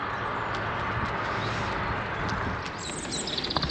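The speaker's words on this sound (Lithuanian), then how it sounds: "Labai paukščiai garsiai čiulba." Birds sing along a cycling road beside the Rhine between Germany and France. Scattered high chirps, clearest near the end, ride over a steady broadband rush of wind and riding noise.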